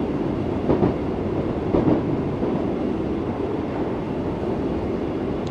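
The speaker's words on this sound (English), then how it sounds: "Do make sure their trains are very loud" Class 484 electric train on the Island Line in Train Sim World 3 running with a loud, steady rumble and rattling wheel noise, rhythmic clicks over rail joints, heard from close inside.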